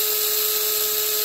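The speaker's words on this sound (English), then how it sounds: "So I'm going to keep drilling away here" A small power drill bores holes into the plastic parts of a Round2 USS Enterprise C model kit, giving a steady, close, high-pitched whine that holds one even tone throughout with no talking.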